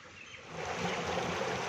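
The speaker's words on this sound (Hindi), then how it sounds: "खाल दे विच पानी आ रहा है तो इंज लग रहा जिवें किसी पहाड़ तो झरने का पानी आ रहा" Water flows steadily through an irrigation channel in a village in Punjab, Pakistan, a continuous rushing gurgle that grows a little louder after the first moment and keeps up without voices.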